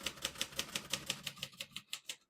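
Typing on a 1957 Royal Quiet De Luxe vintage portable typewriter, a quick, even run of about a dozen crisp key strikes that ends abruptly in silence.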